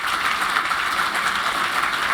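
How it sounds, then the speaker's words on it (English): Audience applause for a panel of five speakers at a bioenergy and emission-reduction conference, a steady dense clapping that fills the whole short stretch at an even level, with no voices over it. "So show them a round of applause."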